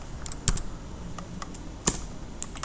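Someone types a cd command on a computer keyboard, a few sparse, crisp key clicks spaced irregularly with two sharper presses standing out, close and without talk.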